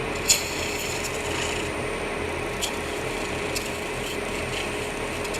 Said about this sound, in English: I'm using a roughing gouge, and it's chipping a little bit